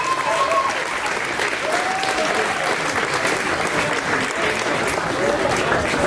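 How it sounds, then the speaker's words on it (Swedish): A concert audience at the Mejeriet venue claps steadily in a dense, even wash of applause for funk bands, sustained throughout with a few faint whistles or calls rising above it. "Jag vill att ni ger de som ni hörde i första akten en stor varm applåd,"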